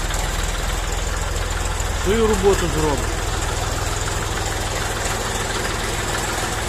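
A cold Kentavr mini tractor engine idles steadily with a low, chugging rumble throughout, while someone speaks briefly over it.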